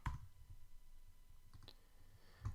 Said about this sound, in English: by clicking on here